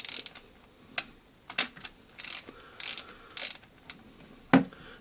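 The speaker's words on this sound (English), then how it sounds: "close the back, take two more exposures" An Olympus Trip 35 film camera makes a series of sharp mechanical clicks as its back is closed, the film is advanced with ratcheting winds and two exposures are taken, all close and distinct against quiet.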